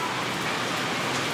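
Rain comes down in sunshine, a uniform close patter of drops on hard surfaces, moderately loud and constant throughout the short stretch with nobody speaking.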